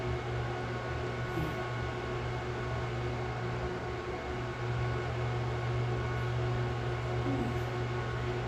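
A microwave oven reheats food for lunch with a steady low hum and whirring fan, constant and close throughout, with no talking.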